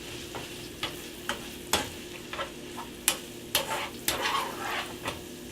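Bacon and onion cook in a pan for frijoles a la charra, giving a steady close sizzle broken by repeated scraping stirs and light utensil taps.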